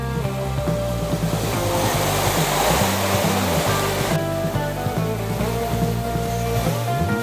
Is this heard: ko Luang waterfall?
yes